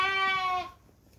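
A single lamb on a farm at night gives a clear, close bleat with a wavering tone that lasts about half a second and then fades into quiet.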